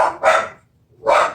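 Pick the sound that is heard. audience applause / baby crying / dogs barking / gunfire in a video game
dogs barking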